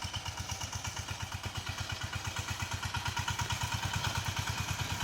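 A VST Shakti 130DI tractor engine runs nearby on a farm with a fast, even diesel chug whose rapid regular thumps stay steady and fairly close throughout, rising slightly in level toward the end, with no talking.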